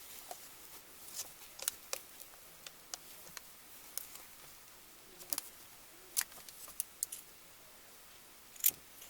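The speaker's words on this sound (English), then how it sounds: "And just cut these to match the length of the fringe at the top." Scissors trimming yarn fringe on a clay-pot snow-people dinner bell craft, a series of sharp, sparse snips spread irregularly over several seconds, close and quiet against a soft background hiss.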